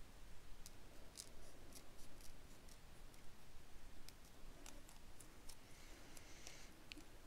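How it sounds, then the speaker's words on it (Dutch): Scissors snip paper loose at close range, a string of faint, crisp cuts at an irregular pace in a quiet room, with no talk over them. "je papier kun je dus niet lostrekken. Dan moet je echt even goed losknippen."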